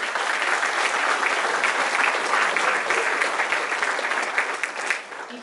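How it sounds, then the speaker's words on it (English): A crowd at a mayoral election kickoff rally claps steadily and loudly throughout, a dense, even wash of many hands that thins slightly near the end. "Round of applause."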